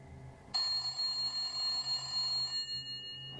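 An old rotary dial telephone rings continuously and incessantly, a loud, steady metallic bell tone that starts abruptly and keeps going without pause.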